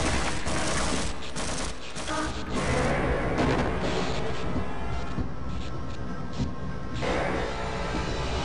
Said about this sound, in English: Fella actually sniped me from across the fucking map